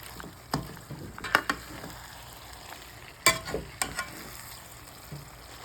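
Ground turkey frying in a heated pan, a low sizzle punctuated by sharp scraping and tapping stirs of a utensil, with quieter stretches between.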